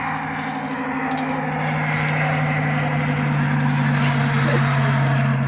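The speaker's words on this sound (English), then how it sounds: "That guy couldn't listen to his his music over his mud tires." A truck on mud tires rumbles steadily nearby with a droning tire hum and low engine tone, holding constant across the whole stretch.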